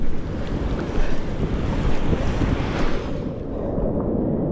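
Strong sea waves crash and churn under gusty wind buffeting the microphone, a loud continuous roar with surges near the start and middle, recorded out on rough water with no talking.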